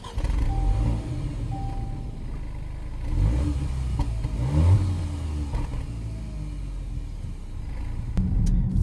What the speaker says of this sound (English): here we are cruising up and down 8th Street, Saskatoon